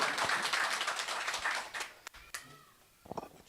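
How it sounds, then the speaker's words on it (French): A crowd applauds at an evening album-release event on a farm, steady dense clapping that thins out and fades, leaving a few scattered claps near the end. "Je vais demander un gros applaudissement"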